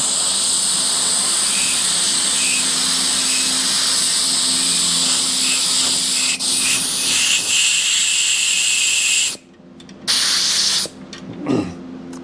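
A sustained, loud spray hiss as a Yamaha 250 MX motorcycle part is rinsed with distilled water, broken by brief pauses near the end.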